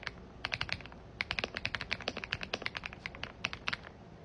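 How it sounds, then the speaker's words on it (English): Rapid typing on a classroom computer keyboard, a dense run of crisp, clicky keystrokes in irregular bursts with short pauses, close and clear with no talking. "this has to be the best sounding keyboard I've ever heard in my life"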